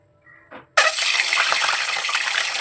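Hard, steady hissing sizzle as boiled eggs hit hot oil in a wok for a Bengali chicken curry, bursting in suddenly after a few soft clicks and staying loud and continuous.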